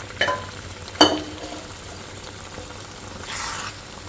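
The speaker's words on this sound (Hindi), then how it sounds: "और मीडियम आंच पे इसको भुनने देंगे।" Mashed vegetable bhaji with masala frying in a pan over medium heat, a low steady sizzle with a couple of sharp scraping stirs near the start and a brief louder hiss later on.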